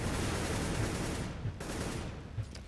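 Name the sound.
gunfire in a Counter-Strike video game match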